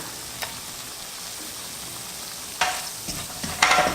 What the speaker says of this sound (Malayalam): ഇനി അതിലേക്ക് നമ്മൾ കാശ്മീരി ചില്ലി പൗഡർ ചേർക്കുകയാണ്.